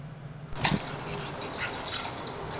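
A dog close by makes brief jangling movement sounds and a short whimper-like noise outdoors, fairly faint, with a few small sharp sounds scattered over a quiet background.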